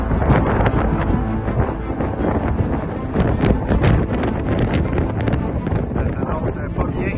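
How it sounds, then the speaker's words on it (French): Strong wind buffets the microphone in a loud, continuous roar that never lets up, while cycling in extreme winds in Argentina. "Le vent vient de commencer de se lever."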